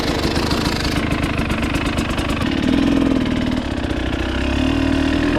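A KTM TPI two-stroke motorcycle engine fires up and settles into a loud, close, steady idle with a brisk buzzing rhythm and slight rises in pitch, no voices present.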